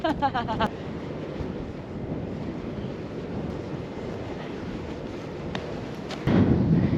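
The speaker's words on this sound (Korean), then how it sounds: "오늘 바람 이렇게 부는데요?" Strong wind at the Seonjaryeong mountain ridge, a steady roaring rush buffeting the microphone throughout, swelling louder near the end, with brief faint clicks and no talk.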